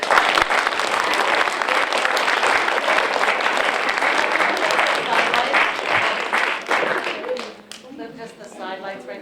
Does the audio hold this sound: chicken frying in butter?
no